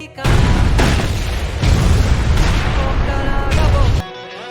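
A loud, rumbling film explosion with a heavy low-end boom that swells and sustains for several seconds, with dramatic music tones surging beneath it.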